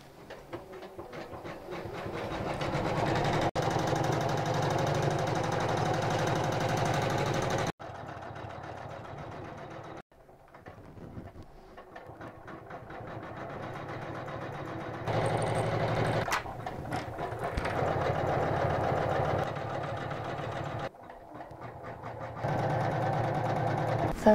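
Computerized embroidery machine stitching felt shapes, a steady rapid mechanical chatter running in long sections, stopping briefly between colours and restarting, close and moderately loud with no talking.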